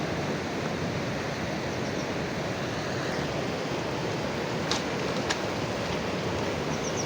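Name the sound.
river flowing beside a mountain path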